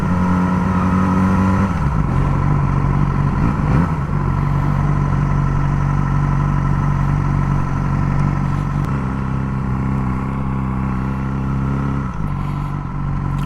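A motorcycle riding through downtown Dallas near Deep Ellum, its engine droning loudly and steadily up close, with gear changes and rev shifts around two, four and nine seconds, plus road and wind rush underneath.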